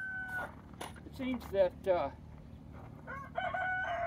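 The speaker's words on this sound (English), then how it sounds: "pardon all the roosters" Several roosters crow in bursts near a worksite where a palm nailer is used on boardwalk construction, calls overlapping and rising over steady background noise while someone talks.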